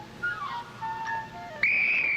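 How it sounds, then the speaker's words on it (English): A whistle is blown in a Disney cartoon, several short wavering toots followed by a longer, louder sustained shrill blast. "I didn't know about the whistle thing"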